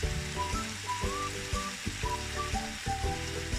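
Chicken biryani masala sautés in a pan with a steady frying sizzle, punctuated by rhythmic clicking and scraping from stirring, with a tonal hum running underneath throughout.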